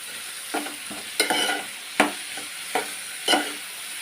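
Onions cooking in a pan for a simple curry make a soft background sizzle, broken by about five sharp stirring scrapes and clatters at uneven intervals, heard up close with no voices.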